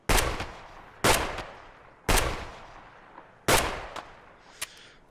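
Shotgun fire in Escape From Tarkov, four loud sharp blasts spaced about a second apart, each with a short decaying tail, plus a couple of faint clicks between.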